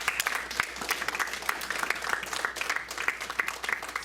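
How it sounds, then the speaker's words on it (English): An audience at a benefit music night in Belle, Missouri, applauds steadily, a dense patter of many hands clapping at moderate volume throughout, with no clear speech. "Let's give them a round of applause."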